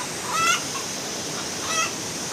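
Chickens by a river give two short, squawky calls, a couple of seconds apart, over a constant rushing background noise.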